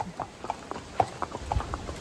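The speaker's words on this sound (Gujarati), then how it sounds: "મંતુ અમારો ઘોડા પર ચાલે છે" Horse hooves clip-clop in a steady walking rhythm as someone rides along a rainy monsoon hill-station path in Matheran, the footfalls close and distinct over a soft background.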